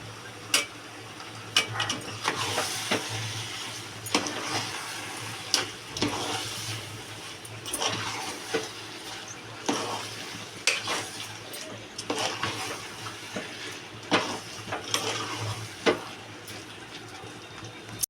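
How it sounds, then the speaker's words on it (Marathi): Chicken biryani masala being stirred and fried in a pan, with repeated scraping and clinking of a metal spoon over a low, steady sizzle, no talking. "आता आपण हे सगळं व्यवस्थित आता मिक्स करून घेऊया."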